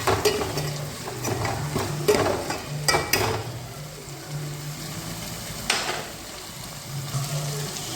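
Potatoes, tomatoes and onions sauté in a curry pan for a chicken curry, giving a soft, steady sizzle broken by scattered stirring and scraping taps from the spoon, quiet and close, with no talking.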